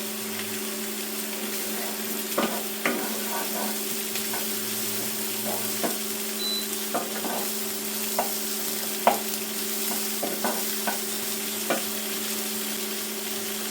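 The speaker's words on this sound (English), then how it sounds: "Let that sizzle away for now." Steady close-up sizzling of chicken frying in a pan, with scattered pops and crackles over a constant hiss.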